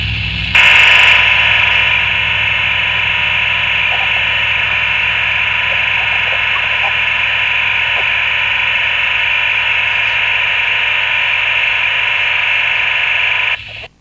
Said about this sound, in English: what you heard at the end was listening to the modem, but on an analog radio